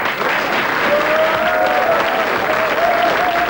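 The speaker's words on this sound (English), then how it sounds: "Give her a clap." Studio audience applause from a television programme, steady and full, filling the whole stretch at a close, even level as a guest settles into her seat.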